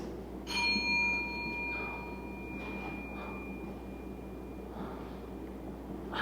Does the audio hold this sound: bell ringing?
yes